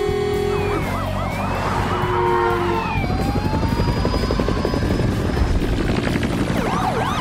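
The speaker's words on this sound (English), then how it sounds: "I feel like it's not fair that they have a helicopter." Helicopter roaring steadily overhead during a car chase, mixed with wailing police sirens and road noise, loud and continuous throughout.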